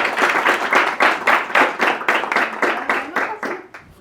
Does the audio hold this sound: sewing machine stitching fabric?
no